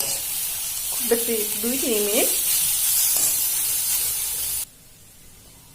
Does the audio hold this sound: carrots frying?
yes